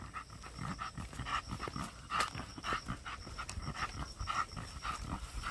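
An exotic bully dog pants rapidly and steadily close by, quick rhythmic breaths continuing throughout with a faint outdoor background.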